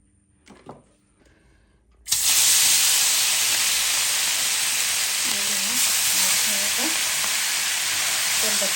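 Oil in a pan for frying fish seasoned with turmeric, chili and salt: quiet handling noises, then an abrupt, loud, continuous sizzling hiss that holds steady to the end.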